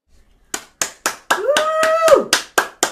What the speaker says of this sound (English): I am clapping for 285 people.